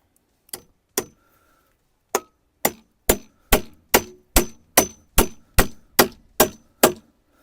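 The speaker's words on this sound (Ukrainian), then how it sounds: "Соточку будемо тягнути ось цим. Пробуємо забивати соточку." A hammer drives a 100 mm nail with sharp metallic blows, a few spaced hits at first, then a quick steady series of about ten strikes.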